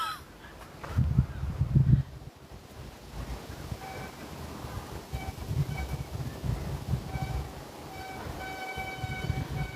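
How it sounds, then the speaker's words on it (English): Bicycle brakes squealing as a rider goes down a hill outdoors: thin, sustained high-pitched squeals that come and go over a bed of wind and distant rumble, moderately faint. "That noise you can hear is somebody's brakes on their bike as they're going down a hill."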